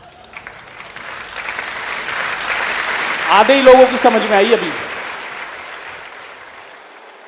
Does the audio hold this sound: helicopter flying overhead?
no